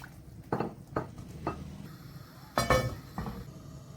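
A spoon stirring roasted red pepper soup in a metal pot makes a few sharp metallic clinks about half a second apart, followed by a louder clattering scrape, close and with no talking.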